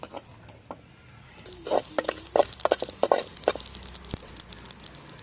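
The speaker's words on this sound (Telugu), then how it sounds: "ఇలా వేయించుకోవాలండి, కొద్దిగా ఫ్రై కానివ్వాలి" A utensil stirs and scrapes in a pan over a light sizzle, with brisk clinks and rustling strokes that pick up after a quiet start.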